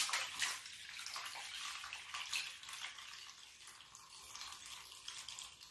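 Steeped hibiscus zobo drink being strained, a steady splashing pour of liquid with a wet, hissing wash of sound, close and continuous with no talking.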